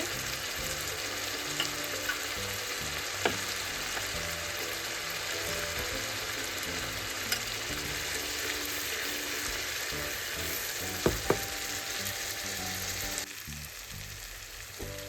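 Spice mix and potato frying in hot oil for a raw mango sweet-sour-spicy pickle, a steady loud sizzle throughout with occasional stirring clinks, dropping quieter near the end.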